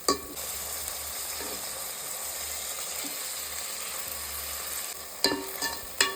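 Chopped tomatoes sauté in a hot pan while a mushroom biryani is cooked, giving a steady broadband sizzle with brief stirring clatters near the start and end, with no voices.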